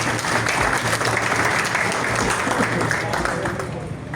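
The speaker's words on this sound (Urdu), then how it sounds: "ان کے لیے بھرپور تالیاں" A crowd at a Pakistani business community dinner party applauds warmly, a dense and loud wash of clapping that holds steady before tapering slightly at the end, with some voices underneath.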